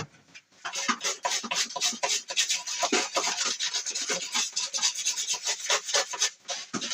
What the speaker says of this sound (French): Elle, je vais la gratter un peu avant d'abord parce qu'elle a subi un petit peu